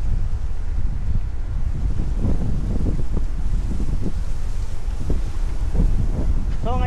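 Strong wind on a hot, humid day buffets the microphone in a continuous loud rumble that never lets up, with faint murmurs underneath.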